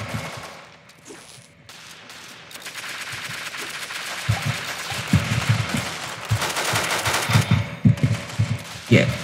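Gunfire in the video game Arsenal: rapid machine-gun bursts and sharp gunshots building in density, loud and close, with a voice heard over part of it.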